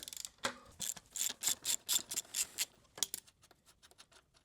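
A ratchet with a 17mm socket clicks rapidly in several quick bursts while loosening the rear axle nut on an E-Ride Pro SS 2.0 electric supermoto, close and crisp, fading to lighter handling sounds.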